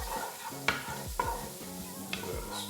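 Garlic and onions sauté in a pan for green beans and potatoes, with a steady close sizzle broken by rhythmic scraping stirs and occasional utensil clicks, no talk.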